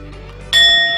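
A gong struck once, its bright shimmering ring blooming over quiet background music and then sustaining steadily as it hangs in the air.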